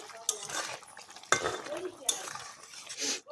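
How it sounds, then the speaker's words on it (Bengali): A spoon stirs fish curry in a pan, with several sharp clinks and scrapes against the metal over a soft simmering sizzle. "দেখুন, একটু নেড়ে চেড়ে দেবো।"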